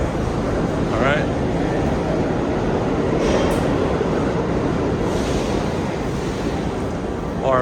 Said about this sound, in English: R46s make a noticeable coupler slacking noise before they leave